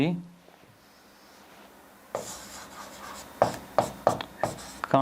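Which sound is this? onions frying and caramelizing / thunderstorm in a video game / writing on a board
writing on a board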